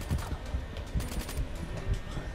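Rapid bursts of automatic gunfire in the Call of Duty Black Ops 3 campaign, crackling volleys in quick succession at mid loudness.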